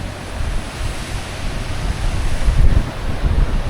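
Waves on a beach roll in as a steady, loud wash of surf noise mixed with wind buffeting the microphone, with no talking.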